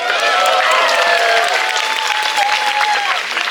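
Steady applause from a crowd at a Latvian midsummer celebration, dense and even, with some whistle-like tones riding on top, continuous for a few seconds.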